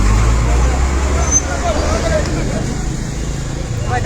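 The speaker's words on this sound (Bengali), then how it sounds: "গাড়িগুলো পার হচ্ছে আস্তে আস্তে।" Vehicles slowly passing on a road, a low continuous rumble of traffic with engine drone, moderately loud and steady, with faint background crowd murmur.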